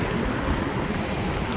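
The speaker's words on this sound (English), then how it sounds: "It's kind of windy, but hopefully you can hear me." Steady wind gusts buffet the microphone outdoors beside a hotshot car-hauling truck and 3-car wedge trailer, a continuous broadband roar with no clear pauses.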